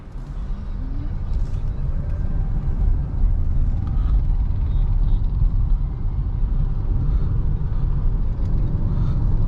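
A Tata Nexon EV electric car, shifted into drive mode, pulls away on the road with a steady low road and tyre rumble inside the cabin, continuous and moderately loud throughout with no engine note.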